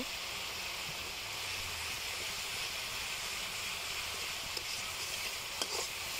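A spice paste of turmeric, chilli powder and salt frying in a pan, giving a faint, even hiss and sizzle with a few soft clicks of stirring near the end.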